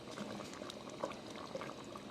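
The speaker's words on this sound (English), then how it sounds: "So I'm gonna bring this up to a boil, and then we'll get it to a simmer." Chili with tomatoes boiling in a pot, giving a faint, steady bubbling burble with small pops scattered across a short stretch, close and quiet, with no voices.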